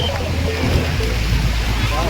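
Sea waves washing at Kunkeshwar beach in the evening, a steady, noisy surf wash with a low rumble, fairly close, with a voice speaking over it.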